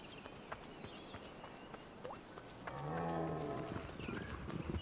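Cattle low in a video game farm setting: a single drawn-out moo rises clearly midway over a quiet outdoor ambience with faint clip-clop and patter, moderately near and alone without talk.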